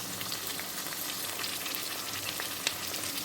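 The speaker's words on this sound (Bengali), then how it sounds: "আমি মশলাগুলো একসাথে দিয়ে ধীরে ধীরে এটাকে কষিয়ে নেব" Garlic, ginger, green chilli and spice pastes frying in a pan for a Bengali jackfruit curry, a steady close sizzle with scattered crackles and pops, no voices.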